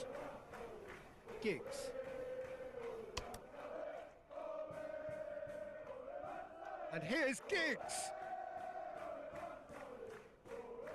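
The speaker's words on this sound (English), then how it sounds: "the crowd clearly like what they just saw" Stadium crowd in the soccer game PES 2021 roaring and chanting in a continuous swelling wash, with bursts of louder cheering, under a commentator talking.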